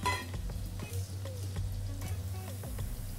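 Chakli spirals frying in hot oil crackle and bubble at moderate volume, with scattered light clicks and utensil taps over a low background hum.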